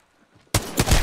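Gunfire in the video game Apex Legends, a sudden loud burst after near silence, then several rapid shots in quick succession.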